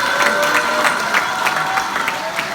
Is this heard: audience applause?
yes